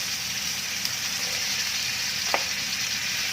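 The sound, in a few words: stir-frying carrots and green beans in a wok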